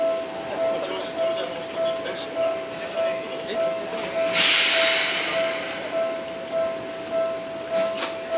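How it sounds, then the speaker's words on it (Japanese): A Seibu Railway train at a station platform pulls away toward the depot at Kotesashi, with a steady rumble and hiss, a sustained tonal hum and a brief louder burst of air midway. "停車中の電車折り返し車庫に入ります"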